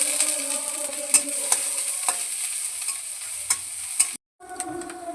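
Ghee sizzles in a pan with panch phoron, dry red chillies and chopped ginger while a spoon stirs, giving a steady hiss broken by periodic scraping clicks, followed by a brief cut to silence and a renewed sizzle.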